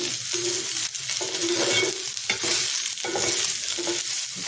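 Fingers made from leftover rice fry in a pan, a close crackling sizzle broken by repeated scraping strokes of a spoon as they are stirred and turned, with no talking.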